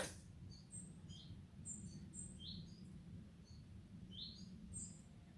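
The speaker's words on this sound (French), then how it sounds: "Je laisse le petit oiseau nous répondre" A small bird sings outdoors in short, bright chirping phrases that repeat at intervals, faint against a low steady background rumble.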